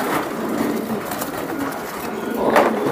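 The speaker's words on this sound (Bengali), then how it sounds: "60টা রেস করা কবুতর আপনাদেরকে আমি দেখাই" Racing pigeons in a loft coo softly and repeatedly, low throaty calls overlapping close by, with one louder call near the end.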